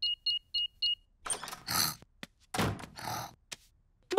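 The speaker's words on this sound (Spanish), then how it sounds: "Voy a apagar la alarma." House alarm being switched off in a cartoon: four short, bright keypad beeps, then a string of clunks, thumps and rustling handling noises, loud and close.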